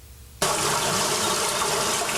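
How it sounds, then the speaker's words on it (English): A keyboard's river or stream sound effect starts abruptly after a brief pause, then runs as a steady, broad rushing of flowing water, loud and continuous with no voices. "Sounds like a river or a stream."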